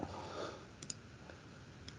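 A few sparse clicks from typing on a computer keyboard, quiet and close, with pauses between taps and no talk.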